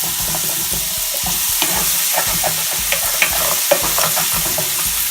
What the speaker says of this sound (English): the apples and the shallots should release some moisture that you can actually use to scrape up some of this